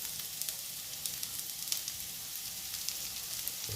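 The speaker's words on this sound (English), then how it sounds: "Now, I'm going to saute the onions first." Onions sautéing in a hot pan give a steady bright sizzle with faint crackles throughout, close and even, with no voices.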